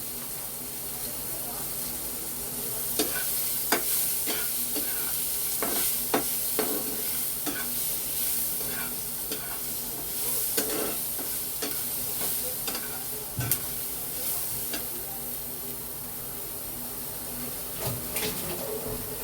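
Cashew nuts frying in a pan for a prawn curry, a steady sizzle under occasional scraping and clinking of the stirring spoon against the pan, close and continuous.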